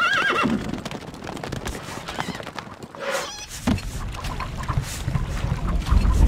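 Horses whinny amid game sounds in the video game Stronghold Crusader: hooves clopping, water and boat noises, with layered effects throughout.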